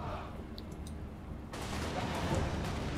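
Gunfire volley from Empire troops in Total War Warhammer, a faint scatter of clicks then a sudden dense crackling burst of massed shots that keeps rolling, heard distantly under battle ambience.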